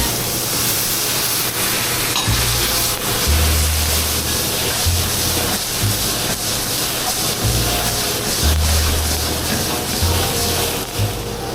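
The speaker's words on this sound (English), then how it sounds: "Now I'm going to deglaze with some white wine." White wine hits a hot pan while deglazing after searing fish, giving a loud, steady, close hiss of sizzling and steam that runs unbroken throughout with no voices, only a low hum pulsing underneath.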